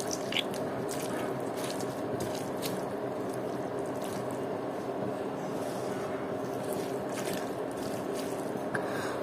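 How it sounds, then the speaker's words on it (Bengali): Mashed eggplant and tomato bhorta with raw onion is worked together by hand, making soft, wet squelches and squishes, quiet and close, repeating in an uneven rhythm. "এবার সবগুলো একসাথে খুব সুন্দরভাবে মাখিয়ে নেব।"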